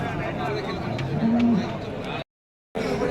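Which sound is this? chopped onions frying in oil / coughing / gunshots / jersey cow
jersey cow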